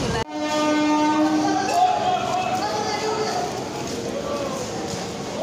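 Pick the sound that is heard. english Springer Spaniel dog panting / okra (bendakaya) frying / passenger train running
passenger train running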